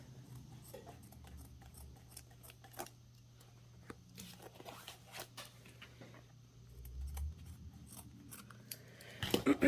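Scissors trimming paper scraps for a handmade journal cover, a series of crisp separate snips at an uneven pace, close and fairly quiet, with rustling paper between cuts.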